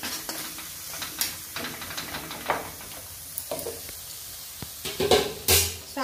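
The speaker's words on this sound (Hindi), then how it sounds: "लहसुन को थोड़ा भून लेते हैं ताकि इसका कच्चापन जो है निकल जाए।" Garlic paste sizzles with browned onions in a hot pan for a village-style potato and yam curry, a steady fry broken by repeated sharp spatula scrapes and stirs, close and fairly quiet, with no talking.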